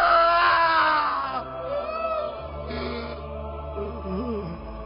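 A man lets out a long, loud, strained cry that sinks in pitch, trailing into lower, wavering vocal sounds, in a reading of the crucifixion of Jesus.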